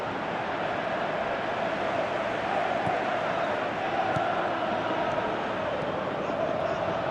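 Steady, dense crowd murmur from a video-game football match, holding at an even level throughout with a faint broad roar and no clear peaks of cheering.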